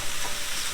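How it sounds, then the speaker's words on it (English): Chicken being stirred in a frying pan for a Slimming World Diet Coke chicken dish, a steady close scraping and sizzling that runs without a break through the short moment, with no talking. "So we'll just give this a stir now."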